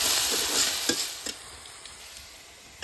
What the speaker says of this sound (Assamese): মছলাখিনি ধুনীয়াকৈ ভাজা হৈ গ'ল